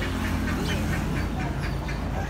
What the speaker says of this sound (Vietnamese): Này con vịt nước.